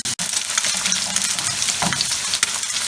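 Eggs fry in a pan with a steady close crackling sizzle, punctuated by small pops and the occasional clink.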